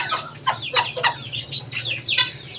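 Golden Sebright bantam chickens cluck repeatedly in short, sharp bursts, close and fairly loud, with a low steady hum underneath and no talk.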